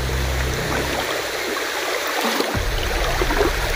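Steady rushing of a flowing stream, broadband and continuous, close by with no voices.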